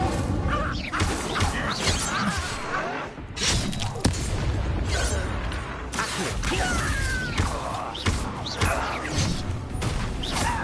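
Incendio fire spell cast in the Hogwarts Legacy game during a duel with dark wizards, a dense, loud roar of fiery blasts, crashes and whooshes running continuously with repeated impacts.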